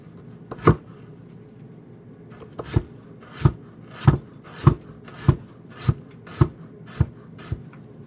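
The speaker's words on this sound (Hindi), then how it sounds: "इस तरह से बारीक काट लें, बिल्कुल थीन काट लें।" A knife chops vegetables finely on a wooden board for homemade sushi, with about ten sharp, evenly spaced strikes that come close and clear in a steady rhythm after a short pause.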